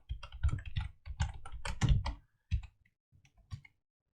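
Keys clatter on a computer keyboard as a MySQL command is typed, quick bursts of close clicks followed by a pause and a few isolated taps.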